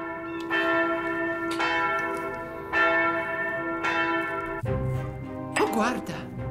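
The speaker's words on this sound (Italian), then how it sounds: "Ecco l'ultima campana!" Several heavy church-style bells toll one after another in the Shrek Forever After game on PS3, each strike ringing out with long overtones, followed near the end by a brighter shimmering magical flourish.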